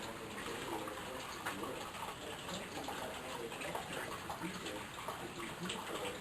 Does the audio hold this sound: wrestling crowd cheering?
no